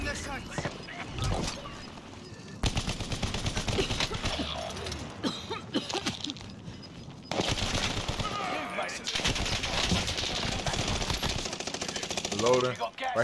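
Video game gunfire rattles in long automatic bursts and rapid volleys, fairly close and loud, broken by short gaps, with voices talking over parts of the shooting.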